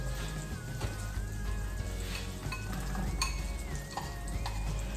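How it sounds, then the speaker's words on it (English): Diced and sliced onions frying in butter for Polish łazanki, a soft close sizzle over a low hum, with occasional utensil clinks and stirring. "And then we add the diced and sliced onions."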